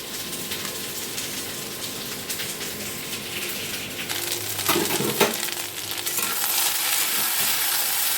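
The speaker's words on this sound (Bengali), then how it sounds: "আলুটা ভেজে নিয়ে তোমাদের সঙ্গে পরে কথা বলতে আসছি।" Potatoes frying in a pan give a steady broadband sizzle with occasional stirring scrapes and a brief louder burst midway, close and continuous with no talking.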